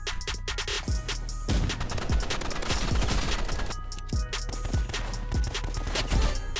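Rapid bursts of shotgun fire in the Roblox game Rivals, loud and close, with repeated blasts over a dense mix of game noise and impacts.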